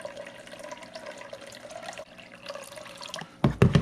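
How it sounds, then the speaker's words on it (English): Fish tank water is scooped and poured into a bowl: a faint continuous trickle and splash throughout, then a louder, closer pour and splash near the end, with no talking. "I'm going to go ahead and go in with the first little scoop here of water so we can start the acclimation process"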